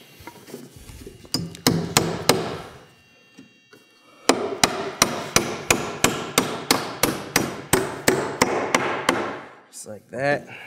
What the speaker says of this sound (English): So what we'll do is we'll nail through the end here.